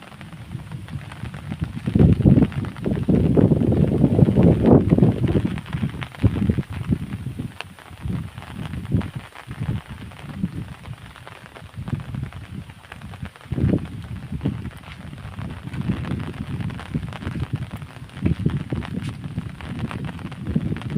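Steady monsoon rain pours over the Konkan countryside, a dense broadband hiss with heavier gusts of downpour early on, close and continuous throughout with no voices.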